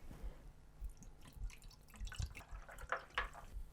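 Tonic water poured into a non-alcoholic spirit in a glass, a soft continuous trickle with light fizzing and dripping, close and fairly quiet, with no talking.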